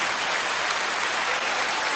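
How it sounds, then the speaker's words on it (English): A short, steady burst of many hands clapping together, dense and even at a constant loudness, with no voices over it. "let me give you an applause"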